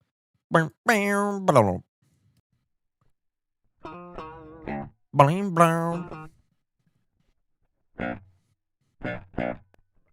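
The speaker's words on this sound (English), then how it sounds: "So that's just the sound of my strings on the pickup," Dry, thin electric guitar notes played without an amplifier, short bursts of bends and plucks separated by silences, close and clean.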